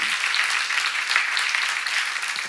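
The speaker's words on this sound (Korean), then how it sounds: "박수하세요." A church audience at a seminar applauds steadily, a dense, close wash of many hands clapping that holds level for the whole stretch with no voice over it.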